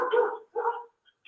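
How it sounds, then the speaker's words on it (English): A dog barks in the background of an online council meeting call, two close, fairly loud barks in quick succession with a brief yip at the end, no talk over them. "Can someone please mute who has their dog in the background?"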